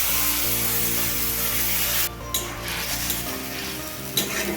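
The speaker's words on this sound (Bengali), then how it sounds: "একটা গোটা শুকনো লঙ্কা, সামান্য পরিমাণ জিরে, দারুচিনি ও গোলমরিচ ফোড়ন দিয়ে" Whole dried chilli, cumin, cinnamon and pepper sizzle loudly in hot oil, a steady dense crackle that dips briefly and then surges again with sharp spits, with no talking.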